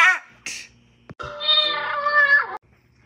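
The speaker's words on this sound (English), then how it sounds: "Cat." A cat meows several times, with short calls first and then one long, drawn-out meow, close and clear with no talk over it.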